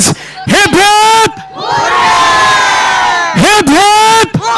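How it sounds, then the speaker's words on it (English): Audience at a National Robotics League competition giving cheers: loud shouted calls from a leader bracket one sustained, roaring collective hooray from the crowd, close and very loud. "I want you all to have 3 cheers for all the people in the audience as well as my lovely volunteers."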